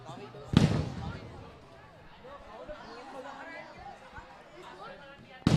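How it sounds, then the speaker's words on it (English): Rugby fans at a schools match set off a firecracker, a sharp loud bang near the start with another burst at the end, over distant crowd chatter and a commentator talking. "Looks like St. Joseph's fans have come with their firecrackers, and that's one of them for sure."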